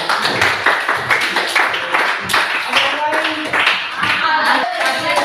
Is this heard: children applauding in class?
yes